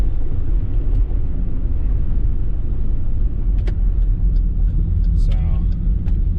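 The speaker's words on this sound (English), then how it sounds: "we're gonna be driving around a little bit" A car drives along with its sunroof open, giving a loud, steady low rumble of road and wind noise, while someone talks over it.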